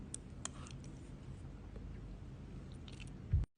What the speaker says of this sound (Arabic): الحين نذوق الثانية اللي بالصوص الكريمي